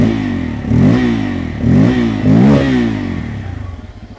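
Bajaj Pulsar N250 motorcycle with a small side-hung single-barrel exhaust with twin exits, its engine revved repeatedly in three loud, close bursts of rising pitch before settling back to a throbbing idle, with no talking.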